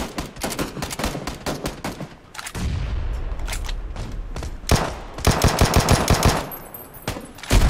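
Rapid automatic gunfire from PlayerUnknown's Battlegrounds, loud bursts of shots in quick rhythmic volleys with a short lull of rumbling noise in between, no talking.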